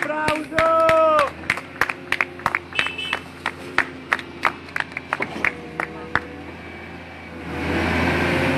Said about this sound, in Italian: ci vuole un applauso!